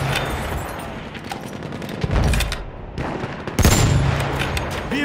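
Machine gun fire in a military shooter game rattles in loud rapid bursts, close and harsh, with heavier blasts mixed in and continuous battle noise throughout.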